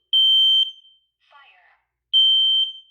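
A smoke alarm sounding during a test lets out two loud, piercing high-pitched beeps, each about half a second long, with a brief fainter burst in the gap between them.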